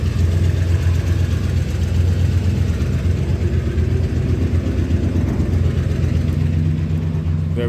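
Oldsmobile 98 idling through dual Flowmaster FX mufflers with an H-pipe, giving a steady, loud, deep exhaust rumble that holds even and close throughout.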